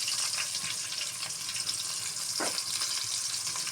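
Onions frying in oil with bay leaf, cinnamon and cardamom for biryani beresta, a steady close hiss of sizzling with a brief stir sound partway through.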